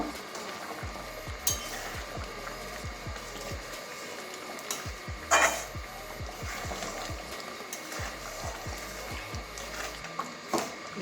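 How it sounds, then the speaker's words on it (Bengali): Garam masala is stirred into mung methi dal in a pan, a soft continuous simmering hiss with a few scraping knocks of the spoon, no voices. "ভালো করে মিশিয়ে নেব।"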